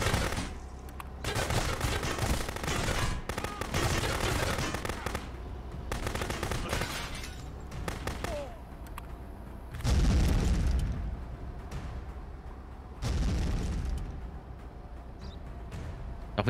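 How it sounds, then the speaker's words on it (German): Gunfire and a car exploding in the video game Contraband Police: repeated rapid bursts of shots separated by brief pauses, with heavy booming blasts near the middle and later, loud and close. "Von so ein paar Schüssen, ja, für die ganze Karre explodiert."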